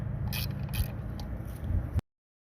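A metric wrench, size 11 or 13, loosens bolts on a Mercury outboard carburetor: close, faint metallic scraping and ratcheting clicks for about two seconds before it stops abruptly.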